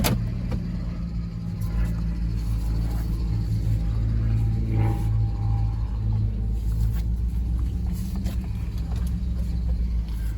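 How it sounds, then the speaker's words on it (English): A Toyota 4Runner V8 truck with center diff lock engaged runs on a ramp, a deep steady engine rumble at idle close by, with slight rises in revs and faint mechanical noises over it. "I'm going to start up the truck and see what happens"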